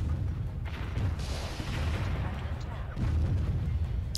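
Artillery fire in the strategy video game Warzone 2100, a run of low rumbling booms and blasts layered over each other at steady loudness.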